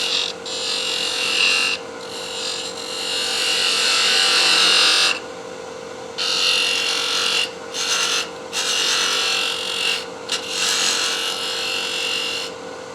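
Steady rasping slicing cut with a lathe tool on the end of a salvaged-wood tool handle, loud and close, with a constant motor hum under it and several brief pauses as the tool lifts off the spinning wood.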